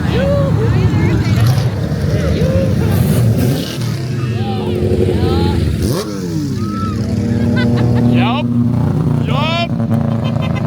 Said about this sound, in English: That's the sound of a rotary.